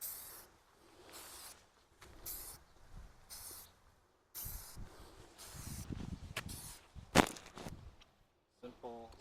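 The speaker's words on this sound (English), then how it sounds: "shake the can and give 3 nice coats" Short bursts of aerosol spray paint hiss in repeated passes while coating a rusty steel wheel, fairly faint with brief pauses between strokes and some rustling handling noise.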